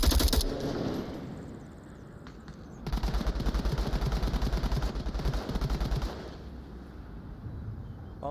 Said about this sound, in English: Almost a full mag dump there.